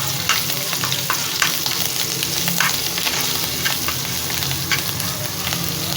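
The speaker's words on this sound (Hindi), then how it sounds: "पैन में 2 चम्मच मैंने ऑयल डाला है। लहसुन अदरक का पेस्ट है।" Garlic ginger paste frying in two spoons of oil in a pan, a steady close sizzle with light stirring scrapes throughout, no voices.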